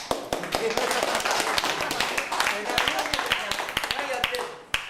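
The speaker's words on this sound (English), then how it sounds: "Clap." Scattered audience clapping at a talk, a group of people giving a moderate burst of distinct, slightly uneven claps with voices murmuring underneath.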